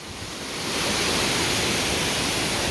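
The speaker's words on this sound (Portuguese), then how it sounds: "Now this is the waterfall." A small waterfall in Manyueyuan National Forest, Taiwan, heard up close as a loud, steady broadband rush of falling water that swells in the first second and then holds constant, with no voices.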